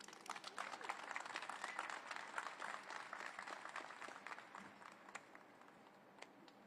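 An audience at a FIFA Club World Cup 2025 countdown event in Atlanta gives a round of applause welcoming FIFA president Gianni Infantino to the stage, a fairly faint, distant crowd clapping that tapers off, with some voices mixed in.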